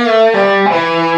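Distorted electric guitar riff with a string bend, release and pull-off, a short sustained phrase sliding between pitches, loud and close.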